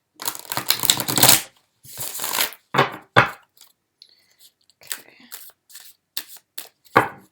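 Playing cards being shuffled for a tarot-style card reading: several crisp, papery riffling bursts and shorter flicks with brief pauses, near and fairly loud, no voices.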